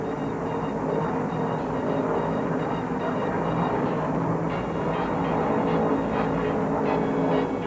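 NASCAR stock cars roar down the straight at Charlotte Motor Speedway during the 1971 World 600 restart, a dense continuous engine drone heard from a distance, loud and sustained with no clear separate passes.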